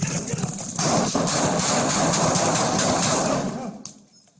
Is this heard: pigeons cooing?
no